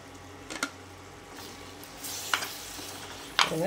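Spices of chilli and turmeric powder being stirred into a pan of prawn curry with vegetables, a steady low sizzle with a few scraping spoon strokes near the end, close by and without talk.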